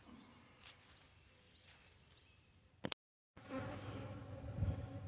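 Bees at a weak hive during a January brood check fill the air with a steady, close, agitated buzz that cuts out for a brief moment, then returns louder and denser.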